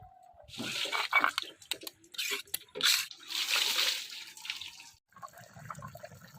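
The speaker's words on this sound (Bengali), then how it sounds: "তরকারি ফোটা শুরু হয়ে গেছে" Hilsa fish curry bubbles in a pot during village-style cooking, irregular wet burbling bursts close by that fade briefly before resuming more quietly.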